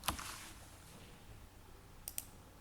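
Computer mouse clicks sound while working in LibreCAD: one crisp click at the start, then two quick clicks near the end, faint and close against a quiet room background.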